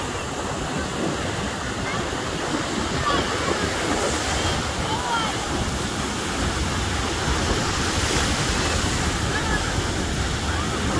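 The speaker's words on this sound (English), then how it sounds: "I just love these waves, man." Ocean waves breaking on Pensacola Beach, a continuous loud rushing surf with rolling crashes and hiss filling the whole stretch, close by and unbroken.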